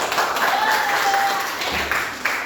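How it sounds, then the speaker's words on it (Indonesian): Classroom applause for a student discussion group coming to the front, a steady patter of clapping from a room of students with a faint tone running through it. "berikan tepuk tangan untuk kelompok 4"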